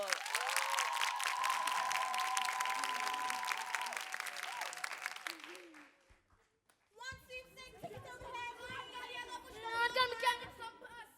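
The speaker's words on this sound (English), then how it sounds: "Please give a massive round of applause for Central High School." An audience applauds a high school choir at a televised singing competition, a loud sustained wave of clapping with chatter that fades out, then after a brief pause the crowd and children's voices rise again with cheering.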